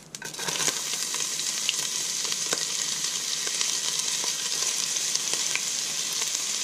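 Steady sizzling and crackling of chopped onion frying in butter in a hot pan fills the clip, with small pops scattered throughout and no voices.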